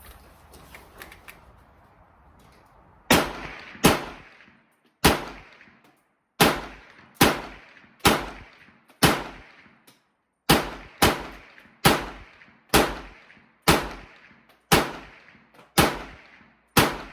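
Underwood M1 Carbine firing 110 grain jacketed round nose ammunition: about fifteen sharp, loud rifle shots in a steady series after a few quiet seconds, each crack ringing briefly before the next.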